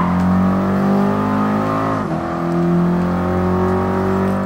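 French Citroën and Peugeot race car engines in Gran Turismo Sport, a loud sustained droning whine with a brief dip in pitch as a gear shifts, then climbing again.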